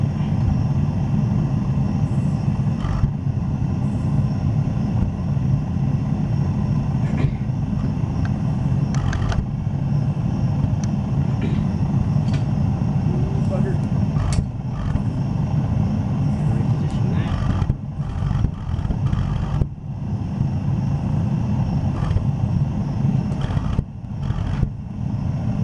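A gas forge roars steadily during heat treatment of a karambit knife, a continuous loud broadband rush with a few clanks and voices talking over it.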